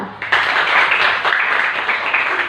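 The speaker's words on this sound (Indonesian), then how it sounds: "Tepuk tangan buat kita semua." Students in a fifth-grade classroom clap together in a dense, continuous burst of applause, loud and close, lasting the whole moment with no talk over it.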